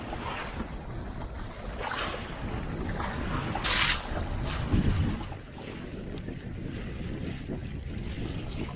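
Sailboat moving through light wind and small chop off Baja California, Mexico, with a steady rush of wind buffeting the microphone and soft splashing water; no voices.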